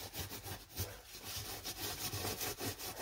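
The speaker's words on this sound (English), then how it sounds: "Nothing like scrubbing in the toilet hole." Debris being scrubbed off a toilet seal inside the toilet opening during a Dometic 320 toilet installation, heard as close, quick back-and-forth rasping strokes in a steady rhythm, fairly faint and with no talk.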